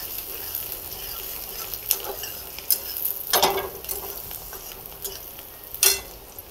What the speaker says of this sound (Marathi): असा कांदा टाकून मिक्स करायचं